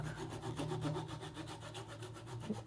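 A Piranha hand saw cuts a 0.5 mm acrylic plate in steady, rapid back-and-forth strokes, a close, continuous rasping rhythm throughout.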